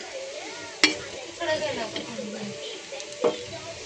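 Egg bhurji frying on a tawa, with a steady low sizzle, a few spatula scrapes and stirs, and a sharp clank near the start and another near the end, heard close.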